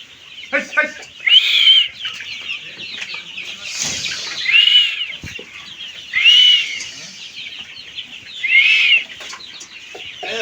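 Two-month-old Egyptian Fayoumi chickens cluck and squawk close by in short repeated bursts, with some wing flapping and rustling between calls.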